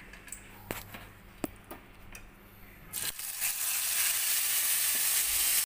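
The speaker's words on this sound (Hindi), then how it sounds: "अब इसी बचे हुए तेल को गरम करके हमें इसमें 2 लौंग डालना है, 1 तेज़पत्ता, 1 हरी इलायची, और अब हम इसमें अपनी ग्रेवी डाल देंगे" Gravy poured into hot leftover oil with two cloves, a bay leaf and a green cardamom for dhaba-style dum aloo. A few scattered clicks and pops give way to a sudden loud, sustained sizzle.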